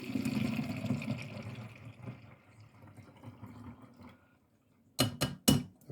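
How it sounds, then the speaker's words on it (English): Brewed tea pours into a kitchen sink, a splashing liquid stream that fades out, followed by a few sharp clinks of glass or dishware near the end. "I'm getting ready to pour this straight into the sink"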